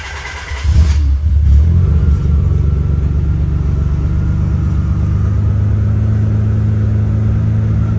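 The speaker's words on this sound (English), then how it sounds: "I'm gonna turn on the car just so the battery doesn't die on me." A 1990–96 Nissan 300ZX engine cranks and catches, then settles into a steady, loud idle rumble that continues without a break.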